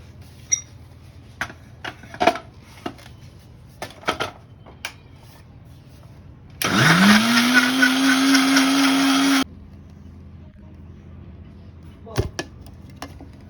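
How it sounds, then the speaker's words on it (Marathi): Mixer grinder jar whirring loudly for about three seconds as it blends cold coffee, the motor spinning up and holding a steady whine, framed by quiet clicks and handling knocks before and after. "म्हणून मी ही नॉर्मल मिक्सरच्या भांड्यामध्ये करते"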